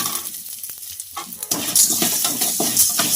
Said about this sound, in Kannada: ಮೆಣಸು, ಮೆಂತ್ಯ ಇದಿಷ್ಟನ್ನು ಮೊದಲದಾಗಿ ಹುರ್ಕೊಳ್ಳೋಣ. ನೀವು ತುಂಬ ಲೋ ಫ್ಲೇಮಲ್ಲೇ ಹುರ್ಕೋಬೇಕು.